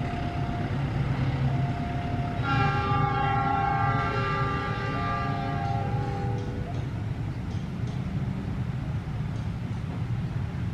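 A train rumbles past steadily and loudly at level crossing JPL 213 near Tegal station, Indonesia, its horn sounding a sustained, multi-tone blast partway through, then fades into continuous rolling noise.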